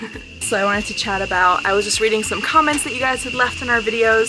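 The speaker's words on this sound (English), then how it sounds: "the sound you can hear in the background, those are cicadas" Cicadas in the jungle around an eco village keep up a thin, steady high-pitched drone in the background while a person talks continuously over it.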